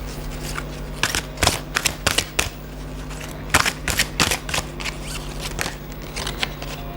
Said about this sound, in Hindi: pull out few cards from the angel deck